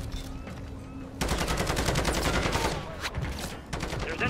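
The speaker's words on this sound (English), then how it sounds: "There's enemy fire." Enemy gunfire in the Modern Warfare III campaign: after a quiet moment, loud sustained automatic fire breaks out in dense rattling bursts that continue for several seconds, with a voice faintly underneath.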